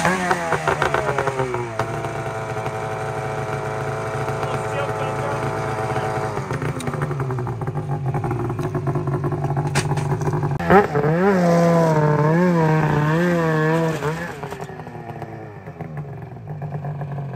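A 2023 Ford Raptor R pickup's engine revs and rises in pitch as the truck pulls away, a steady loud drone with a surge of rising harmonics near the end before easing off.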